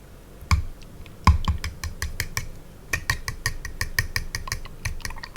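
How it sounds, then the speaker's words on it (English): Quick, irregular clicking and tapping of a utensil against a bowl, like eggs being whisked, close up with no voices. "I'm just going to do just a little bit of like the sound of like mixing the eggs"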